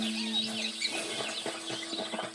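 Quiet ambient outdoor animal sounds in the video game Red Dead Redemption 2: soft scattered bird chirps and faint clucking over a steady low hum.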